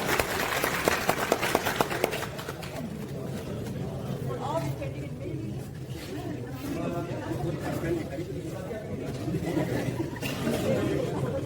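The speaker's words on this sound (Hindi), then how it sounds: "नमान साहब के लिए भरपूर तालियां।" Audience at an awards show claps and cheers with a dense crowd murmur, a burst of applause at the start settling into ongoing chatter and scattered clapping, fairly distant and mixed with talking.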